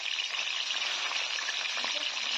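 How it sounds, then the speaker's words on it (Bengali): Katla fish pieces fry in oil after being flipped to the other side, giving a constant, moderately quiet bubbling sizzle with no talking. "এবার আরেক সাইড উল্টে দিয়ে আমি ভেজে নেব।"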